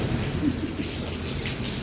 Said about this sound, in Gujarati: વરસાદ એ જબરજસ્ત